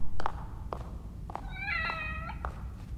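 A cat meows once in a rising, tonal call within The Evil Within horror game, set against a low rumbling game ambience with a few soft thumps before and after.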